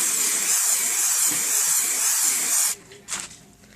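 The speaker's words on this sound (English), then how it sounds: "now we are going to spray them with Aussie hairspray" A continuous hissing spray of Aussie hairspray blasts close by for a few seconds, then stops abruptly, followed by a short softer hiss.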